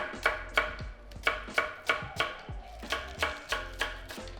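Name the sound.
knife slicing potatoes on an angle for potato salad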